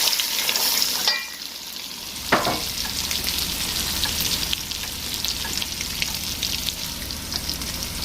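Crayfish frying with onion in an ogbono soup base for a Nigerian okra soup, giving a steady, close sizzle with a brief stir scrape near the start and no talking.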